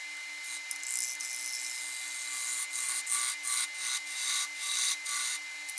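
A lathe gouge cuts into a spalted hackberry bowl turned from a rotted log, giving close, raspy scraping in repeated short strokes over a constant low spinning hum.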